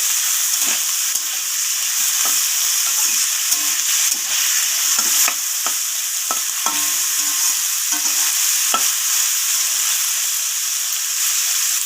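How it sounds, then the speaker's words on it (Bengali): Chopped carrots and potatoes stir-frying in a pan give a steady, loud sizzle, with frequent light scrapes and taps from the spatula as they are tossed, close up and with no talking. "গাজর আলুটাকে এইভাবে নাড়াচাড়া করে আমি ভাজা ভাজা করে নিচ্ছি"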